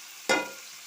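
Marinated chicken pieces drop into hot oil and spice paste for a Bengali chicken kosha, setting off a sudden loud sizzle that swells and then settles into a steady frying hiss.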